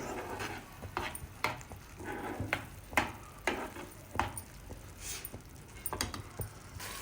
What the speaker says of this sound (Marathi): मग असं सारखं ढवळत राहायचं कुठे लागू नये